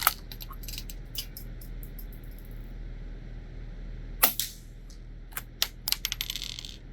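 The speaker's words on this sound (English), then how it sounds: "All I hear is the round hitting the back of the range." Sharp, faint metallic clicks and ticks, scattered singly and in quick clusters, as .22lr rifle rounds strike the backstop of a shooting range over a low steady background hum.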